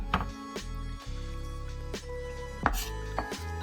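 Kimchi chopped on a board with a knife, a few sharp knife strikes spaced irregularly over a steady low hum, fairly close and moderately loud.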